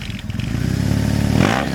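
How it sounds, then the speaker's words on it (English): A BMW R 1100R motorcycle with its boxer engine gives a deep, throbbing, continuous rumble that swells briefly as the revs rise near the end, then settles back. "You want the deep, throbbing torque of an iconic boxer engine"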